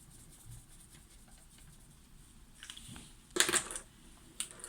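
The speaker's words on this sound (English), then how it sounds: "you take your Crayola marker and you scribble some of it out onto the plastic" A Crayola marker scribbles onto plastic in a quiet room, faint scratchy strokes building to a brief louder burst of rubbing near the end.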